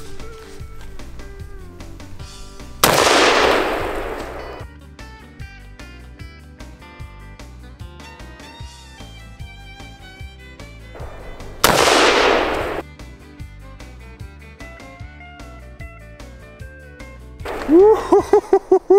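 Two loud, sharp rifle shots from a Sauer 303 chambered in 7x64, spaced well apart and each followed by a brief ring-out, outdoors amid quiet background music, with a short rattling burst at the end.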